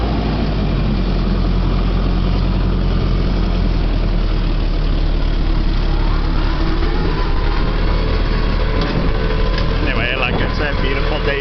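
Farm vehicle engine droning steadily while cruising in a higher gear on a Missouri farm, a loud continuous low rumble heard close and constant throughout, with a faint voice briefly under it.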